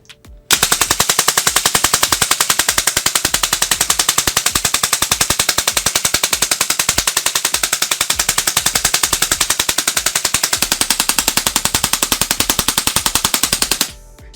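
A Tippmann M4-22 Micro Elite airsoft pistol, running on HPA or CO2, fires BBs at a card in one long, unbroken burst of rapid, evenly spaced cracking shots lasting about thirteen seconds, loud and close, before stopping abruptly.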